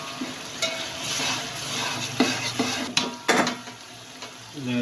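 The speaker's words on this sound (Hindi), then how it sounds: "अब हम इसमें गोश्त शामिल करेंगे।" Mutton goshtmeat dropped into a pot of frying masala for aloo gosht salan, a continuous sizzle broken by several metal clanks and scrapes of a spoon against the pot, close and with no talking.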